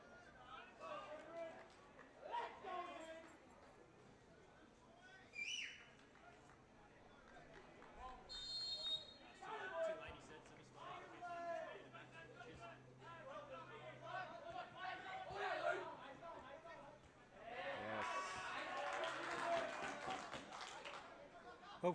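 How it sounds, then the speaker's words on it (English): Crowd of Port United football fans at a reserve grade men's grand final, a steady murmur of chatter with bursts of clapping and cheering swelling near the end, under continuous commentary. "Hopefully you can hear the crowd from the on the internet"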